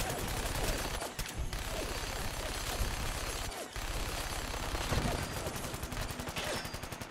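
Sustained minigun fire from a legendary Rail Raider Station Master in Fallout 4, a rapid continuous rattle of shots with brief gaps, fairly faint and distant.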